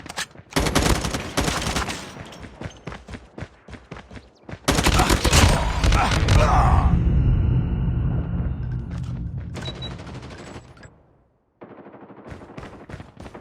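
Call of Duty gunfire: rapid automatic bursts crackle loudly, a long sustained fusillade with booming echoes in the middle, a brief silence, then more clipped shots at the end.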